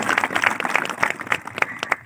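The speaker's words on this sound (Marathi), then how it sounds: "त्यासाठी जोरात एकदा टाळ्या वाजवा" An audience at a school gathering bursts into a short round of clapping, dense overlapping hand claps close by and fairly loud, lasting about two seconds.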